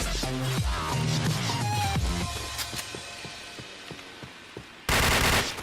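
Gunfire rings out in a shooter video game: a rapid cluster of loud shots at first, then spaced single cracks fading under the game's background sound, ending in a sudden loud blast.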